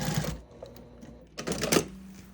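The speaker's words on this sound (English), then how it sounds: "go ahead and just stitch your pocket closed" A sewing machine stitches a quilted gift bag's pocket closed, making two short, quiet bursts of rapid mechanical whirring separated by a brief pause.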